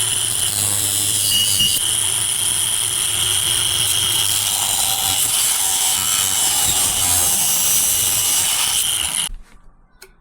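A power saw cuts through a carbon fiber part from a Husqvarna 701 Supermoto, a loud continuous high-pitched whine that runs steadily for about nine seconds before cutting off abruptly.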